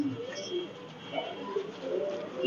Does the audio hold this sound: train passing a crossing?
no